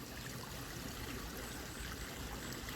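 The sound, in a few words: water running down a DIY fake rock waterfall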